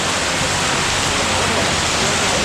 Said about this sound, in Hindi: अब पानी बहुत तेज बरस रहा है।